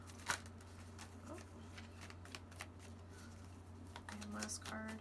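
Tarot cards being shuffled by hand, a string of soft papery riffles and quick slaps close to the microphone over a low steady hum, with light sounds of a person in the background.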